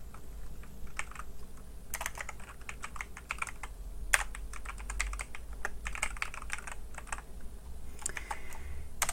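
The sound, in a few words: typing on a computer keyboard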